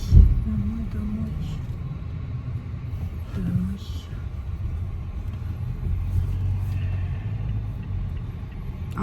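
A car drives along with a steady low engine rumble and road noise inside the cabin, holding at an even level throughout, with faint voices and small interior sounds now and then.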